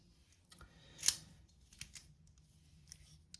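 An old Gerber multitool slides open with a single sharp metallic click, followed by a few faint scrapes and taps.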